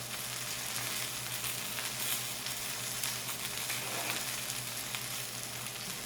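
Fiddlehead ferns fry in hot butter with a steady, loud, hissing sizzle that runs unbroken throughout, close by and with no voices.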